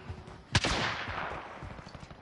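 Gunfire in Call of Duty Modern Warfare, a single sharp shot followed by a decaying boom and scattered faint pops in the background.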